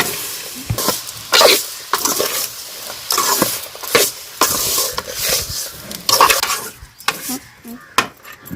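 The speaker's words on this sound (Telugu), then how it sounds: "ఇట్లా వేసి కలుపుకుందామండి అన్నిటిని" Ingredients for ridge gourd chutney are stirred in a pan with a spoon, giving repeated scraping strokes against the metal over a soft sizzle, with brief pauses between strokes and occasional clinks.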